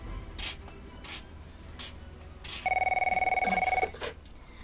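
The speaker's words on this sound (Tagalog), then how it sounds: "agkir-kiriri ang telepono" A telephone rings with a steady electronic bell tone for about a second, following a few soft clicks and knocks, with no talking over it.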